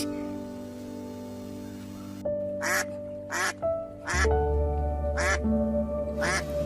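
A cartoon duck that lays golden eggs gives five nasal quacks, spaced a second or so apart, over sustained background music tones.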